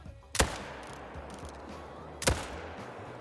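Two loud, sharp rifle shots fired at a leucistic mule deer in a hunting video game, each a sudden crack with a short rumbling tail, almost two seconds apart over a quiet ambient background.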